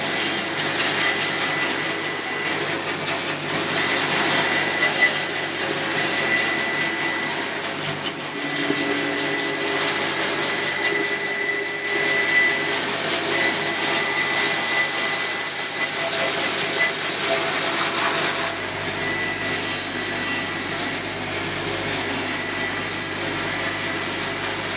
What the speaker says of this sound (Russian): Для этого можно использовать циркулярку, но я предпочитаю ленточную пилу